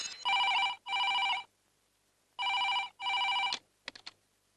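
A telephone rings in two pairs of bright electronic bursts with a pause between, followed by a couple of short clicks.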